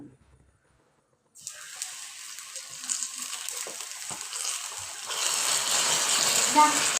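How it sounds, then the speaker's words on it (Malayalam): Water is poured into sugar cooked down to hot caramel in a pan for caramel pudding, setting off a loud, spreading sizzle and hiss that starts abruptly after a short silence and grows rougher and stronger toward the end. "നമ്മളെ പഞ്ചസാര നന്നായിട്ട് കാരമലായി വന്നിട്ടുണ്ട്. അപ്പോൾ കുറച്ച് വെള്ളം ഒഴിച്ച് കൊടുക്കാം."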